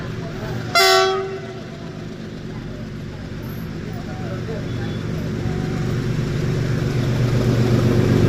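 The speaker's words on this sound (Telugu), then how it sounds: "ఈ ఇంజన్ ఉందంటే ఇది ఖచ్చితంగా గూడ్స్ బండే ఉంటుంది" A diesel locomotive hauling a goods train near Guntakal junction: a brief horn blast, then a steady, rising rumble of rolling wagons heard from a passenger train.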